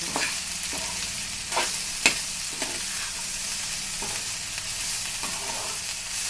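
Okra (ladies finger) fries in an open pan while being stirred: steady loud sizzle broken by periodic scraping strokes of a spoon across the pan, and no speech.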